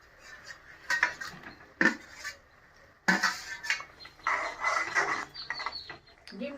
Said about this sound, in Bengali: ঝোলটা ফুটে উঠছে, আমি এখন আলু আর ক্যাপসিকাম দিয়ে দেবো।